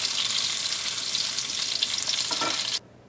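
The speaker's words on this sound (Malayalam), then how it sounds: "ഇപ്പോൾ മീൻ നന്നായിട്ട് മുരിഞ്ഞിട്ടുണ്ട്." Fish frying in hot oil, a dense continuous sizzle with crackling bursts that cuts off abruptly near the end, with no talking.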